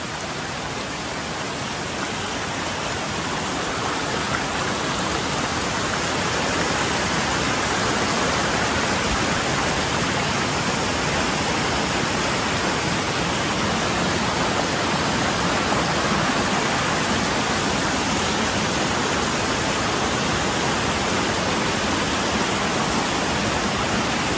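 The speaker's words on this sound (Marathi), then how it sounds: "पाण्याचे प्रवाह वाढायला लागलेले आहेत." Stream water rushing in a rising flow, a dense, loud, unbroken roar close by with no pauses, filling the whole span without any voices.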